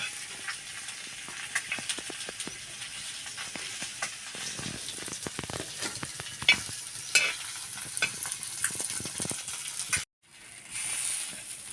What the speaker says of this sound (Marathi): तर आता हे चांगले हालून असे तळायचे आहेत दोन्ही बाजूने